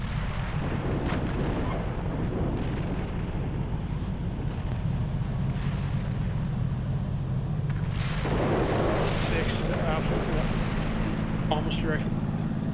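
Tank gunfire in the Steel Beasts Pro PE combat simulator: a dense rumble of heavy booms and bursts rolls on throughout, with louder sharp cracks near the end and faint radio voices talking underneath.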